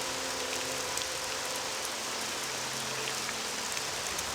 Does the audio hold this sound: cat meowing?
no